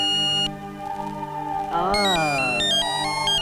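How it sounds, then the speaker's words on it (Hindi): A telephone rings with a repeating electronic ringtone of steady tonal beeps, then a melodic phrase stepping through pitches. A voice is heard with it. "जाइए, जाकर फोन उठाइए।"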